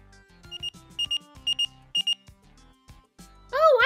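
A Paw Patrol Robodog toy sounds a series of short electronic beeps and chirpy tones in quick clusters, followed by a brief warbling electronic tone at the end.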